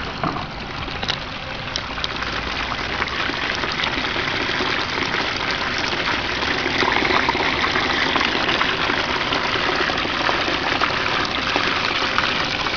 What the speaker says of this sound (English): let me see if I can get a close-up of the bucket sluice in action here.